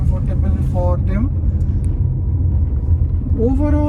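Low interior rumble of a Tata Tiago XT Optional hatchback driving through a city, a steady road and engine drone under someone talking close by.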